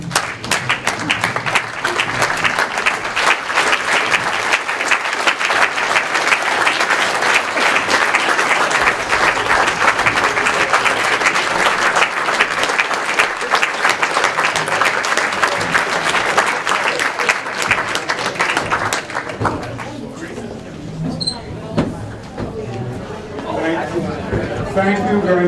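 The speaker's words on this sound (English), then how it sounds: "how about one more rousing round of applause?" A crowd gives a standing ovation at a high school athletic Hall of Fame induction ceremony: loud, sustained applause for about twenty seconds, then it dies away and a voice speaks over scattered claps.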